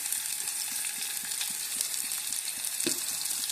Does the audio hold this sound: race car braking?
no